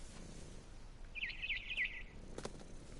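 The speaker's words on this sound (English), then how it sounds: "Then I heard chirping outside my window. It was a barn swallow going back to her nest." A barn swallow in What Remains of Edith Finch gives a quick run of bright, high chirps, close and fairly clear, over a quiet outdoor ambience, followed by a short soft rustle.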